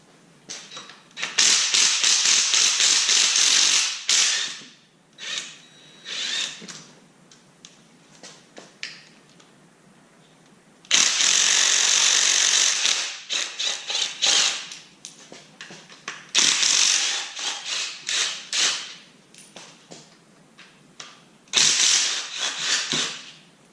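A ratchet working on the transmission bolts of a 2013-2019 Nissan Versa Note during a CVT removal, heard as loud, close bursts of rapid clicking that repeat several times with short quiet gaps between them.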